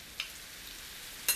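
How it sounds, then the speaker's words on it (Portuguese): Onion and garlic frying in bacon fat, a soft continuous sizzle with two brief sharper crackles or clinks, close by and without talk. "Fritar bem"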